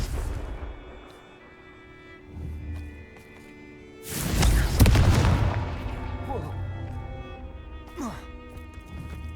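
A Confringo fire spell explodes in Hogwarts Legacy, a loud booming blast with a rumbling tail, set amid quieter game sounds and a brief shout.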